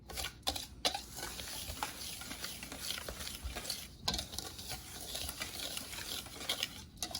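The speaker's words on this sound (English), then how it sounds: "Then I whisk it to make sure that it's all mixed well." A whisk works through a chocolate pudding cookie mixture in a bowl, a soft continuous stirring swish with a few sharp knocks and scrapes, close and fairly quiet, no talk.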